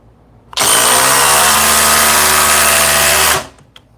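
A DeWalt DCF860 cordless impact wrench on a 5 amp hour battery runs at speed 3 in one loud, steady burst of about three seconds, with hammering and motor whine, starting and stopping sharply.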